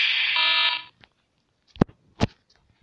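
Alarm in the online game Fleeing the Complex, a loud sustained tone lasting under a second with a brief repeat, followed by a couple of sharp short bursts.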